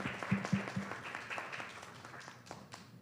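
An audience at a colloquium on racial profiling in Mexico City breaks into applause. It starts as a burst of claps and fades quickly over a few seconds, heard up close with a slight murmur behind it.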